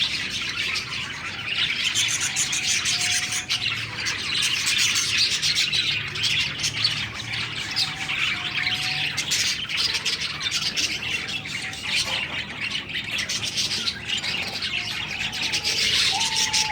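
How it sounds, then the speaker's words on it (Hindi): Parrots in a garden tree give scattered squawks and chirps over a constant rustling and scraping, fairly close, with no voices. "तोते साहब अपना आराम फरमा रहे हैं"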